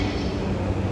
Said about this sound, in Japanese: for Utsunomiya via the Shonan Shinjuku line through service to the Utsunomiya line will soon arrive on track number 3.